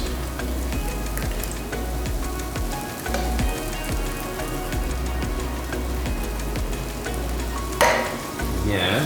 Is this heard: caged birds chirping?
no